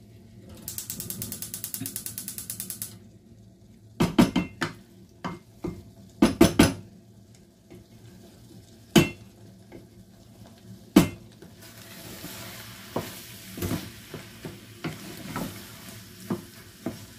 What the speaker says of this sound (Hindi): अब ये 10 मिनट पूरा भूननी है।